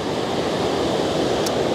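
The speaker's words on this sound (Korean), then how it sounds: "파도 소리도" Ocean surf rolling steadily along a New Zealand coast on an overcast day, a continuous broad wash of waves with wind noise, fairly close and unbroken, with no talking.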